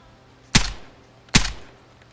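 Two sharp, loud single shots from a VSS rifle in the video game Vigor, fired about a second apart, each with a quick crack followed by a short decaying tail.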